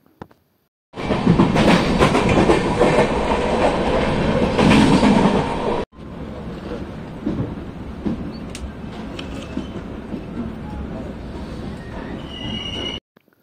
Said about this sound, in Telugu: ఆ రైట్ సైడ్లో కనిపిస్తున్న ఫస్ట్ ట్రైన్నే మేము విజయవాడ నుంచి వచ్చాము చెన్నై